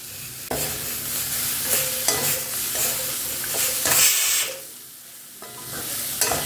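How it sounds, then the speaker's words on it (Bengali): Fried rice stirred and fried in a pan with a little oil over medium-high heat, seasoned with salt and ground pepper: a steady, close sizzle broken by repeated scraping stirring strokes, with no talk. "দিয়ে এটা এই নেড়ে নেড়েই একটু ভাজতে হবে"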